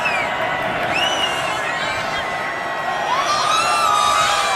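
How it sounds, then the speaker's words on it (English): A stadium crowd at the Army-Navy college football game roars and screams continuously, a loud, massed wash of voices with shrill whoops and whistles rising above it. "They're all screaming, "Make America Great Again.""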